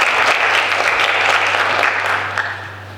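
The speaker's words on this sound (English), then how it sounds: "Let's give another loud round of applause for all the contestants" An audience at a pageant breaks into loud, dense applause, steady clapping sustained for a few seconds and easing slightly toward the end.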